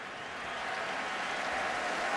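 A big stadium crowd applauds steadily at a rainy Miami vs Maryland college football game in College Park, a dense, even roar of clapping that swells slightly and holds throughout.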